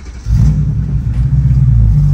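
BMW E92 M3 engine, heard as a loud, close, deep rumbling idle that swells suddenly and holds steady, with a slight revving rise and no talking.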